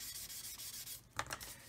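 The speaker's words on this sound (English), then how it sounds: "we still got a little bit more sanding there to do" A flat sander rubs along a seam on a plastic 1/48-scale Skunkmodels R-11 fuel tanker model, making soft, close scraping strokes that stay quiet, with a slightly brighter pass near the end.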